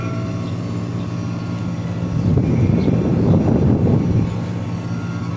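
A running air conditioner compressor gives a steady, dense low hum with a mechanical drone, swelling louder for a couple of seconds in the middle before settling back to a constant level, with no voices.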